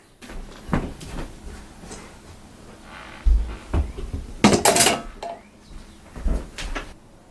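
Indoor game of makeshift bowling: a ball rolls across the floor and knocks down household objects set up as pins, giving several light clattering knocks and scattered impacts amid low room noise.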